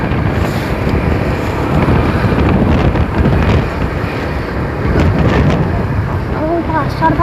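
Strong wind buffets the microphone during the windy season in Bukittinggi, producing loud, continuous rumbling gusts throughout, with a voice speaking underneath.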